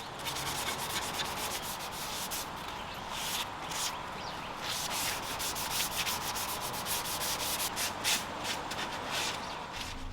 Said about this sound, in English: scuff all the existing finishes on the base with a 150 grit sanding sponge